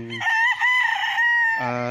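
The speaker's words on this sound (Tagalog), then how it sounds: "At ang daming alagang manok." A rooster on a fenced farm lot in Liliw, Laguna gives one loud, close, drawn-out crow lasting under two seconds, with a brief throaty cluck before it and another at its end.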